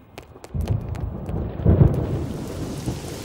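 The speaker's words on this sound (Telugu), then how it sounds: "ఫోన్ ఎట్టగానే ఉరుములు మెరుపులు వచ్చేస్తున్నాయంటే వెంటనే వర్షం వచ్చేద్దే" Thunder rumbles low and rolling with rain falling, the roll building to a heavy peak midway and then fading under steady rainfall.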